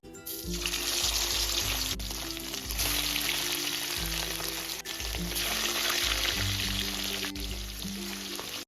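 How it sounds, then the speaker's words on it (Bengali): Marinated chicken pieces frying in hot oil for dahi chicken: a steady, loud hiss of sizzling oil that runs unbroken and close, with low music playing underneath and no talk. "এবার আমি চিকেন গুলো ভেজে নেব, যেটা ম্যারিনেট করে রেখেছিলাম।"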